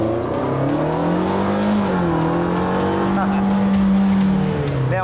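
A Vanderhall Venice, a light three-wheeled autocycle, drives hard with a loud engine note rising and falling through gear changes and a brief tire squeal, with people talking over it.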